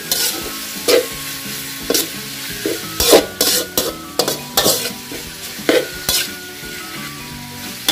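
Pork frying in a hot pan with dried chilies and garlic, a steady sizzle broken by frequent sharp scrapes and clacks of a utensil stirring the pan, loud and close with no talk.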